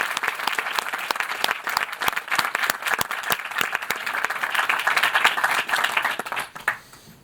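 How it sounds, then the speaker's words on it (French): Audience applause at a French debate and eloquence event, brisk crowd clapping with distinct individual claps, building slightly before tapering off at the end. "Merci d'applaudir Max Cortina."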